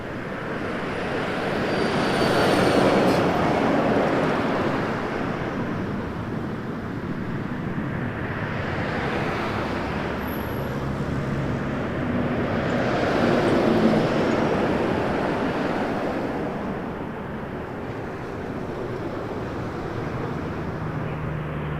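A Boeing 737-800 jet at Toronto Pearson Airport gives a broad, steady roar of engines that swells and eases across the span, heard from some distance with no talk.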